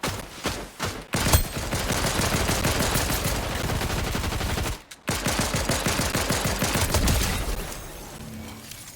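Fortnite gunfire pours out in long, loud, rapid automatic bursts that run for seconds at a time, with a brief pause midway and a few separate shots near the start, close and without talking.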